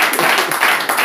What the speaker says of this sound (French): Applaudissez pour vous-même alors.